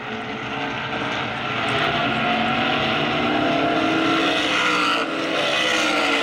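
Modified race cars roar around Lancaster Speedway in a loud, continuous, layered engine drone that rises and falls as the field passes, with no commentary audible.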